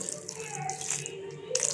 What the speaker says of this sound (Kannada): ಮಿಕ್ಸ್ ಆದ ನಂತರ ಸ್ವಲ್ಪ ನೀರು ಹಾಕ್ಕೊಳ್ಬೇಕು